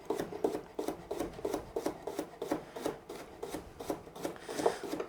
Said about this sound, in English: I'm just going to cut them into little slices.